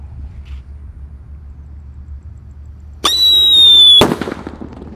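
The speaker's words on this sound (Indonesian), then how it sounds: "Sudah menyala bosku, let's go." Firecrackers set off inside a hole in the ground: a low rumble, then a sudden loud whistling shriek that rings for about a second before a sharp nearby bang, followed by a brief crackling tail.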